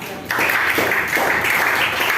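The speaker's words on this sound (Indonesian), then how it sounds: "tepuk tangan untuk nomor A" A classroom of students claps for a correct answer in a maths lesson, a steady burst of many hands that starts abruptly and continues evenly at moderate loudness.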